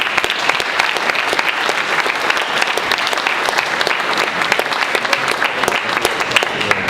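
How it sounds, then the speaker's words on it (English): A crowd at a boxing press conference for Amir Khan versus Phil Lo Greco gives a loud, steady round of applause for a head trainer, dense clapping sustained throughout with no talk over it. "Big round of applause for Phil Greco's head trainer, Fernando Vargas."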